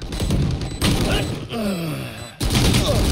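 Rapid bursts of gunfire in the Valorant video game crackle in quick succession, broken by a short pause with a rising tonal effect before another loud volley resumes, all fairly close and dense.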